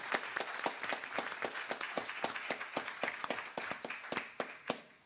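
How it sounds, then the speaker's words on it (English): An audience at a Lake County Schools board meeting applauds media specialists from across the district, with sharp claps in a steady, sparse patter from a modest crowd, moderately loud and without speech. "please join me in showing a round of applause for our media specialists across Lake County Schools"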